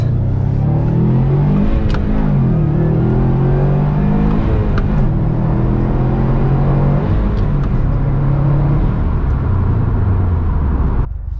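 A 2019 Subaru STI Type RA drives along with a steady, loud engine drone that rises and falls as revs climb and shift, filling the whole stretch with no talk.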